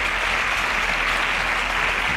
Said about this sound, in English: A round of applause for Chimdubem.